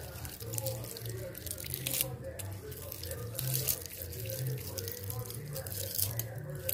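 Steady water runs from a tap in a continuous hiss, with a low hum and occasional clinks underneath.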